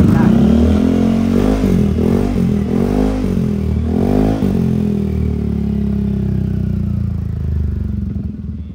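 A 2017 Yamaha X-max 300 scooter engine revs several times in loud rising bursts with a throaty exhaust note, then winds down and fades toward the end.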